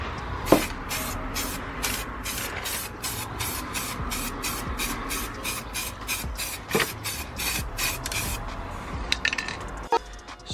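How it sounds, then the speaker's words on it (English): Spray paint hisses in short, evenly spaced bursts while coating the engine bay of an MX5 under restoration, with a few sharp knocks and clicks in between. No one speaks. "we'll just spray it up there as well"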